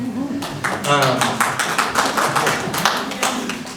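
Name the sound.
audience applause at a candidate forum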